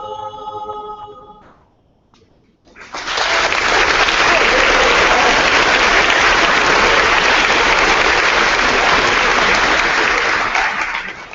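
A high school audience bursts into loud, sustained applause at a senior assembly after a brief quiet pause, clapping filling the room steadily until the end.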